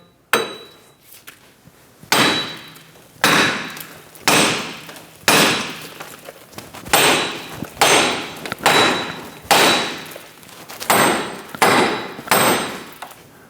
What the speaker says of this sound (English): We're just going to go around tapping the hub.